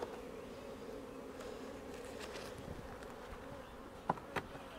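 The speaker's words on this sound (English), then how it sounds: "And I need these bees to get in there." Honey bees buzz steadily around a hive during a beekeeping split, moving frames from a five-frame nuc into a ten-frame deep brood box; a dense, continuous drone with a couple of brief louder knocks near the end.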